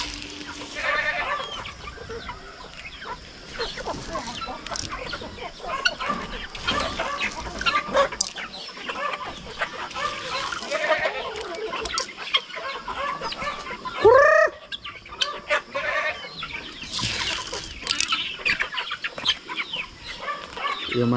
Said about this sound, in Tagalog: Andito po yung tandang natin, oh.